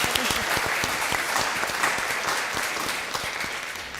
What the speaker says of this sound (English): So a round of applause just to encourage her